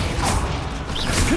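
A Confringo explosive spell bursts in Hogwarts Legacy, a crashing whoosh with a thick rumbling body that stays loud and close across the whole short moment, with a brighter swishing flare near the end.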